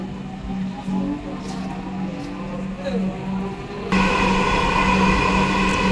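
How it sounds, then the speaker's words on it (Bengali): Interior of an air-conditioned Dhaka metro rail train on an elevated line: a steady low hum and rumble that steps up sharply in loudness partway through, with faint voices in the carriage. "মেট্রো ট্রেনের ভিতরে চলে গেলাম খুব সুন্দর দেখার মতো আকর্ষণীয় ট্রেন এসি এবং পাশ দিয়ে গ্লাস করা"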